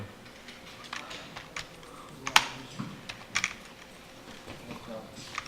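Control and arrow keys on a computer keyboard are pressed in a light, irregular run of clicks, quiet and close, with someone speaking Korean faintly in the background.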